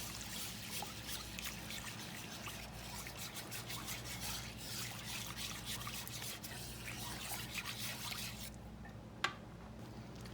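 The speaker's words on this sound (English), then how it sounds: "add us some water to that bouillon powder and our flour" Water poured into bouillon powder and flour for a Southern-style sauce, a faint continuous trickle and splashing liquid heard close, ending with a single small clink, no talking over it.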